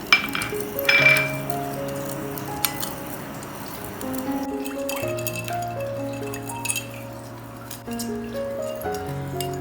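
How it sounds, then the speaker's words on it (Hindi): A spoon stirs three spoonfuls of sugar into milk in a glass, producing light clinks against the glass, loudest near the start, over steady background music. "और दूध में हम डालेंगे 3 चम्मच चीनी और इसको अच्छी तरह से मिक्स करेंगे।"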